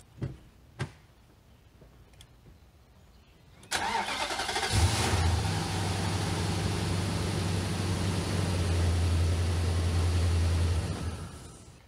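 A few faint clicks, then a starter cranks and a 5.6-liter V8 car engine, jump-started with a portable jump starter, catches with a roar, settling into a loud, steady rumbling idle.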